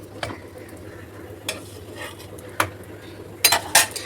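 Potato and flour snacks being flipped in a frying pan with little oil: several sharp utensil clicks and scrapes against the pan over a faint low sizzle, with no speech.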